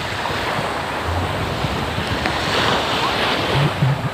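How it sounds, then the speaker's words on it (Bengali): Surf washes ashore with steady wind buffeting the microphone at Jomtien Beach in Pattaya, Thailand, a continuous dense rush of waves and gusts with no clear voices. "রাইট নাও যেখানে ঘুরতেছি সেটার নাম হচ্ছে জমতিয়ান বিচ"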